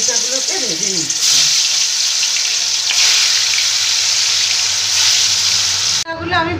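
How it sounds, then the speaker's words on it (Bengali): Pea dal muithya dumplings fry in hot mustard oil in a wok, a steady loud sizzle with bubbling crackle that runs for about six seconds before an abrupt cut to a different sound. "এবার আমি আস্তে আস্তে এই মুইটাগুলোকে ভেজে নিচ্ছি।"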